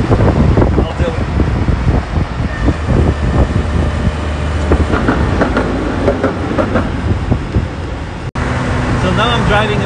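A Suzuki LJ80 driven off-road at about 70 km/h in chilly weather gives a loud, constant rumble of engine, tires and wind buffeting that holds steady throughout, with a brief dropout near the end.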